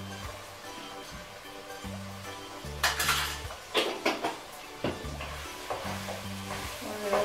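Paprika sizzling in a pan of frying vegetables for a lentil stew with chorizo and bacon, with steady hot frying and metal spoon scrapes and clinks against the pan as it is stirred, loud and close with no talk.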